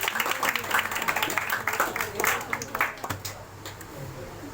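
An audience claps at a prize distribution, a burst of applause that fades after about three seconds and leaves quieter room sound.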